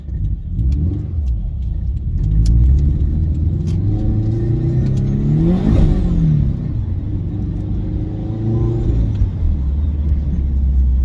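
A turbocharged Toyota FRS with a TRD muffler revs while driving, its engine rumbling loudly and rising to a sharp peak midway before settling back to a steady drone.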